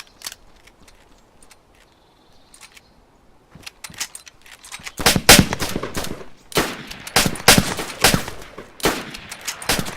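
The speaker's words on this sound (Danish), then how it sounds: "Jeg skyder helt vildt." Rapid bursts of gunfire from a sniping video game, sparse early on then loud, dense volleys of shots over the second half with no talk.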